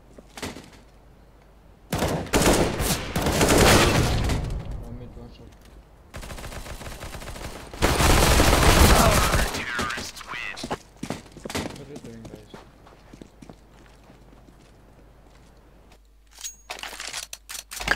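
Video game shooter gunfire rattles out in loud rapid bursts, with several long volleys separated by quieter gaps and a few more distant shots near the end.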